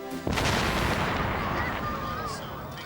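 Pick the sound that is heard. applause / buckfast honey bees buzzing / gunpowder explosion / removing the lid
gunpowder explosion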